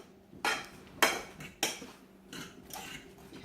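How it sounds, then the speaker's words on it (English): A spoon clanks and scrapes in a pot while brown sugar is stirred into glazed carrots, several distinct metallic knocks at irregular intervals over a soft background hiss, no talk. "Just bring some brown sugar in there. And I'm going to mix it together"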